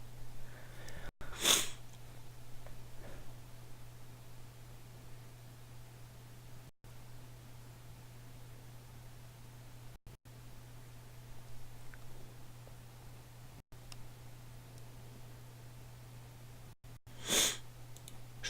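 Someone with a cold gives two short, sharp sniffs, one near the start and one near the end, over a steady low electrical hum and background hiss.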